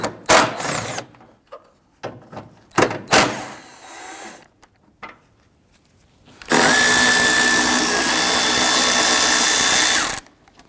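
A power tool, likely an impact or drill, spins out the 14mm bracket bolts on a 2007-2014 Cadillac Escalade 6.2L V8 during starter replacement, with a few short clicking bursts and then one long, loud, steady whir of about four seconds.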